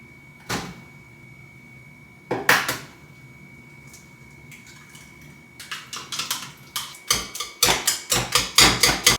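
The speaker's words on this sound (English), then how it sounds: "Basically, you're just gonna smash it and mix it until it looks like a nice yellow custard" Custard ingredients and blueberries being smashed and mixed in a bowl, heard as scattered knocks and clinks that build into a quick run of rhythmic mashing strikes toward the end, close and fairly loud.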